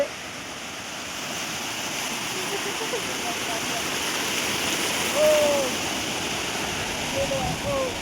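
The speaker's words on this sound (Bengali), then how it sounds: "সমুদ্রের আওয়াজটা।" Sea waves at Old Digha beach make a steady, broad hissing wash that swells gently, near and fairly loud, with faint voices or calls briefly cutting through.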